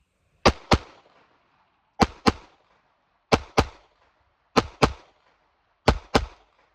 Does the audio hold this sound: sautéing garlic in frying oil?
no